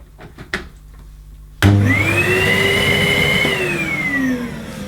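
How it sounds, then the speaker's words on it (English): A Hoover Sensory Evo vacuum cleaner switches on abruptly after a few soft clicks, spinning up into a loud steady whine with an odd rising and falling pitch. "That sounds odd for a Hoover Sensory."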